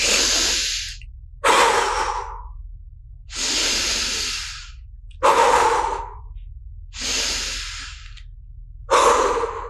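Several deep, breathy inhalations and exhalations from people doing a guided standing breathing exercise, each breath a long airy swell followed by a pause, repeated in a slow, even rhythm with no talk.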